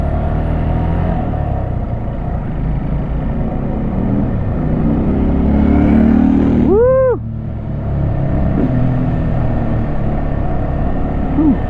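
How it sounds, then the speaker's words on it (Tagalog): A motorcycle engine runs nearby with a steady rumbling drone, rising briefly in a revving swell near the middle before settling back to a constant idle-like hum. "Ano motor yan?"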